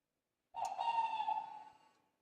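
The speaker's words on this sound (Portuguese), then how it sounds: "Isso é uma coruja." An owl hoots once in a single sustained, whistle-like call that swells and slowly fades over about a second and a half, heard alone against silence in a search for a presence on Devil's Island.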